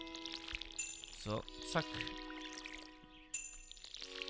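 In Stardew Valley, a watering can is refilled with water as a bright pouring, splashing sound rises over steady game music, while someone talks briefly over it.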